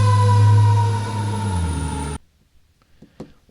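A fire engine siren passes outside, a loud wailing tone with rich overtones lasting about two seconds before cutting off abruptly to near silence with faint scattered noises.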